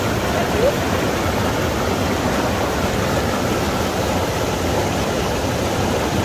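Cold stream water flowing down from Tulian Lake near Pahalgam in Kashmir, a loud, constant rushing broadband roar throughout, close by and steady, with no talk heard.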